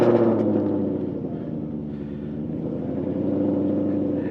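A 2017 Ford Mustang 5.0 GT coupe, tuned to 800bhp with an automatic gearbox, idles with a deep, loud, throbbing V8 rumble after a brief higher burst at the start, steady and close.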